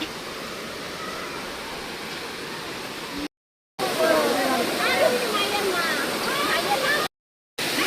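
The Ruisang waterfall in Khagrachari gives off a steady, broad rushing roar of falling water, broken by two short silent gaps, with faint higher chirping sounds over the torrent.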